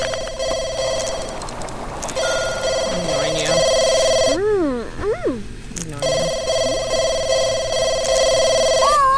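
Telephone ringing in The Sims 2, a repeating electronic ring tone that runs nearly continuously, loud and close, with a short gap where game sounds and a voice take over.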